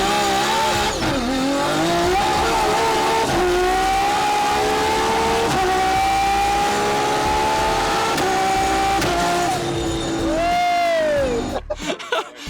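Nissan GT-Rs of more than 1000 hp launching at a drag racing shootout, engines roaring and climbing through gear changes, loud and sustained, with a squealing rise near the end before it cuts away.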